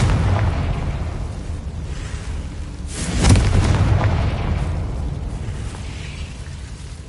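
Confringo fire spell blast in a Hogwarts wizarding video game: a single loud explosive burst about midway that swells and then rumbles away over a steady low game backdrop.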